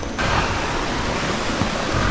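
Close by on a farm lot in the Philippines, a river rushes in a steady, broadband wash. The sound stays loud and constant for the whole stretch, with no voices over it.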